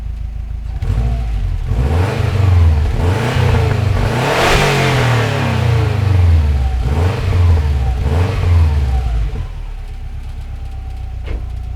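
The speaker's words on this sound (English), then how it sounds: "let's see what it sounds like when we rev it" A Subaru Forester XT fitted with a Prodrive back box exhaust is revved close by. The engine note swells and falls in several loud repeated rev bursts before settling back toward idle.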